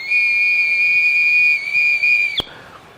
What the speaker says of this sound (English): I can clearly hear the whistle sound